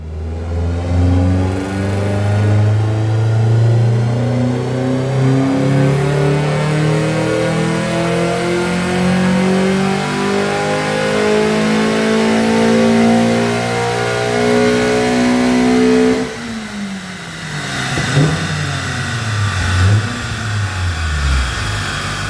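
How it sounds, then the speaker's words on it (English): A Ford Fiesta ST with a 2.0 Duratec engine, Mountune inlet manifold and remap, revving loud and close on a dyno, pitch climbing steadily through the gears before dropping off and idling down. "now we're ready for a first proper dyno run."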